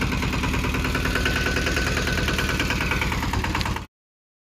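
A tractor engine idles with a steady, rhythmic diesel chug, close and continuous, then cuts off abruptly near the end.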